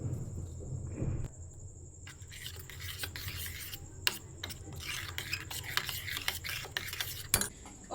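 Salt and chili powder being mixed into pizza dough by hand in a home kitchen, giving a steady close rubbing and scraping with occasional light clinks against the bowl, and no talking.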